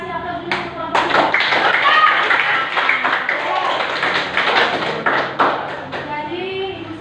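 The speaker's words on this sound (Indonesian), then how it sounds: "Kelompok 3 sekali lagi kita kasih aplaus dulu untuk kelompok 3." Classroom applause for a student group, many children clapping together in a dense, sustained burst with a few sharper taps standing out, lasting several seconds.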